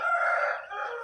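A single aggressive, large-clawed rooster crows once, loud and close, a short sustained call with no talk around it.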